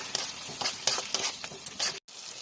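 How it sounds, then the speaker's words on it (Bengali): Spiced masala with turmeric, chilli powder, meat masala and salt being stir-fried in a pan for egg curry, a soft sizzle with rhythmic scraping strokes of a spatula, close and quiet. "একটু হাতে ছিটে জল দেবো, দিয়ে এটা ভালো করে কষাবো"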